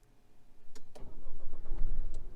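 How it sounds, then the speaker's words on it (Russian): Geely Coolray crossover engine starting by remote start: a couple of short clicks, then the starter cranks and the engine catches into a rising, rough idle, nearby and moderately loud with no speech. "Автомобиль у нас завелся."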